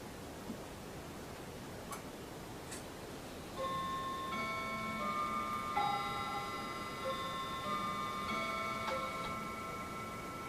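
A clock ticks steadily and softly at close range against a faint background hiss, joined partway through by a faint sustained high ringing.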